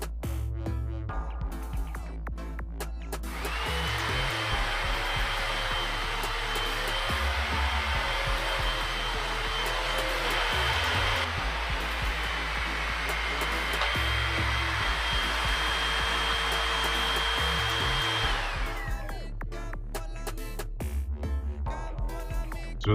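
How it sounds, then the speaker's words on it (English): A Hoover Windtunnel upright vacuum cleaner starts up and runs with a loud, steady whine and airy roar for most of the stretch, then winds down and stops, with clunks before and after. "I happen to have a vacuum cleaner handy, so as I pull out the cord for the power"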